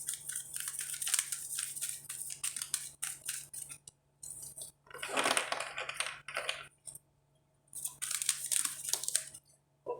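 Cards are shuffled for a pendulum reading, with quick, crisp riffling and flicking bursts in close, separate runs broken by short pauses and no talk.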